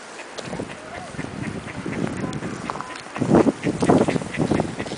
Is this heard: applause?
no